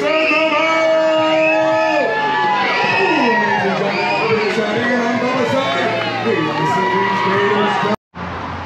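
A crowd of children and adults yells, whoops and cheers loudly and continuously at a Gatorland alligator show, voices overlapping close by for about eight seconds before cutting off abruptly.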